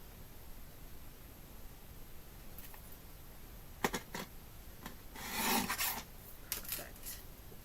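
A paper trimmer slices craft paper cut along its guard, heard as a few sharp scraping strokes and a longer rasping pass over a faint hiss, close and quiet.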